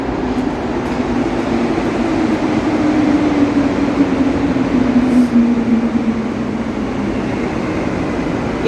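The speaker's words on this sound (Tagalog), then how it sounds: "Ayan ang train." A train passes close by with a loud, continuous rumble and rail roar that holds steady throughout, with a faint whining tone drifting downward partway through.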